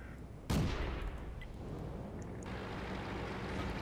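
A tank cannon fires in the World of Tanks game, one sudden heavy boom followed by a long rumbling decay over steady engine drone, with a faint second report later.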